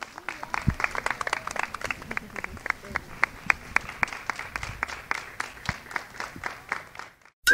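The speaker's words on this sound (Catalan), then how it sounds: "Un aplaudiment per a vosaltres" A small group applauds at a children's council event on a local magazine programme, sparse uneven claps from a few people rather than a full crowd, fairly faint, with a voice briefly heard underneath.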